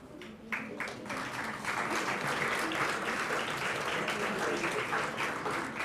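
Sustained applause from a large audience at a college induction programme ceremony, dense and steady for the whole stretch after a brief softer start, with faint voices mixed in.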